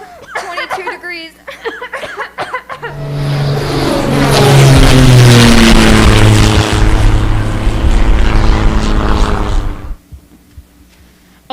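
Army bombing plane propeller engines in a radio drama swell into a loud, sustained droning roar that builds, holds for several seconds, then cuts off, with a brief bit of voice before it.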